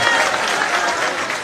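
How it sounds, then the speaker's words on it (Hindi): Audience applause at a large Congress political rally in Ambah, a dense burst of steady clapping from a big crowd, loud and continuous throughout. "मैं सब लोगों से निवेदन करूंगा कि जोरदार तालियों के साथ आदरणीय कमलनाथ जी का स्वागत करें।"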